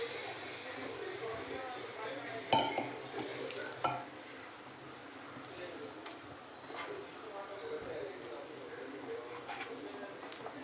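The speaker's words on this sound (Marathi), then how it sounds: "चला तर मिक्स करून घेते" Chopped spinach is stirred in a pan for garlic palak, soft scraping and light sizzling with a couple of sharp utensil clinks, faint and close.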